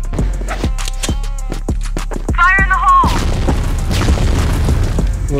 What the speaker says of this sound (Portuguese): Granada de fumaça!